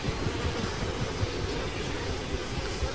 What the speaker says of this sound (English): Turbine engine.